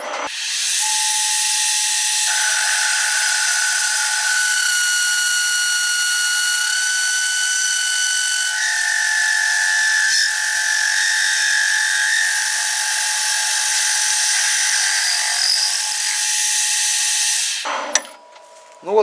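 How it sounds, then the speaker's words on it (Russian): Aluminium being machined into shavings and chips for a homemade egg-turning lathe, a steady high-pitched whine of the cutting tool running continuously at close range with shifting tones, stopping abruptly near the end. "Продолжаем переводить алюминь в опилки,"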